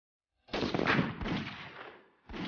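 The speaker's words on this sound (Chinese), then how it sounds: "现在只剩下最后一个酒瓶，八一式自动步枪能否继续保持精准呢？" A Type 81 assault rifle fires at a glass bottle target during an accuracy test, a loud sharp report followed by a brief second blast, close and without talk.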